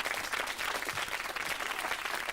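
Steady applause from a studio audience at a live children's puppet show, dense clapping filling the whole stretch at an even level with no voices over it.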